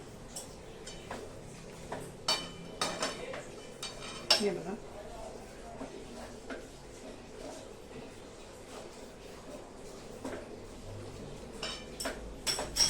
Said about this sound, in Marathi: हे तिळाचं कूट हे याच्यामध्ये घालायचं लागत लागत घालायचं आणि छान मस्तपैकी हलवून घ्यायचं